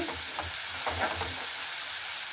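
Potatoes with crushed garlic sizzle in hot oil in a pan, a steady close hiss with a few soft stirring knocks early on.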